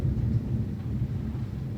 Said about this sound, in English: can you hear the storm outside?